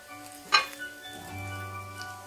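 Turmeric, red chili powder, coriander powder and kasuri methi being stirred in a sizzling pan for a soya chunks curry: a quick spoon clink against the pan, then a soft, steady sizzle.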